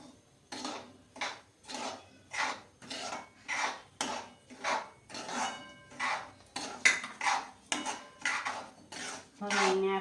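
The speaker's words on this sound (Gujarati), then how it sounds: "હવે આપણે આ 1 વાટકી રવો નાખશું।" Semolina (rava) is stirred in hot ghee in a pan for rava shiro, giving a close, even rhythm of about fourteen scraping strokes of a spoon against the metal pan.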